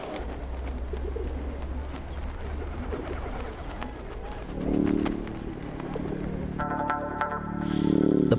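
Pigeons coo in a city fort where a buzzard hunts them, soft repeated cooing over a busy background of bird calls and low ambient rumble, with a flurry of wingbeats and calls toward the end.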